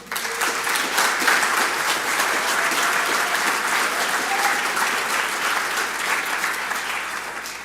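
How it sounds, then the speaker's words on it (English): An audience at a summit on disrupting human trafficking gives Lauren a sustained round of applause. The clapping is dense and even, filling the room, and it eases off slightly near the end. "Can we get one more applause for Lauren?"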